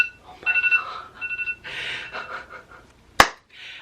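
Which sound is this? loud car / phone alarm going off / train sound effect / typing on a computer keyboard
phone alarm going off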